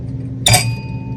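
A released tuning fork on a spring myograph rings out: a single bright metallic strike followed by steady sustained tones that hang on and slowly fade, close and clear with no talk.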